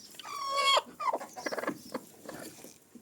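A hen clucks and squawks close by, a drawn-out cackle followed by a run of short, choppy clucks that fade out.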